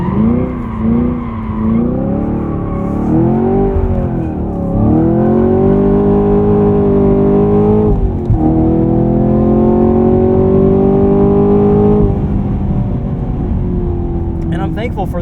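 A Chevrolet Camaro SS 1LE engine revs hard during a burnout, its deep drone swelling and dipping in long waves under continuous talk from inside the car.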